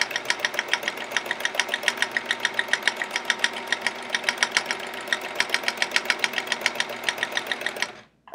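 Rapid, steady stitching of a domestic sewing machine doing free motion quilting on a small piece of fabric for a chevron quilt, a close, loud rattling pulse with slight speed variations, running alone until it stops near the end.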